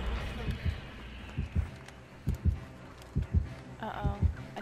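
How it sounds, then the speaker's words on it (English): In the Dead by Daylight video game, an approaching killer's heartbeat thumps as a steady, low double pulse repeating about once a second. The beat sits under faint game ambience. "I went towards him and I heard the heartbeat."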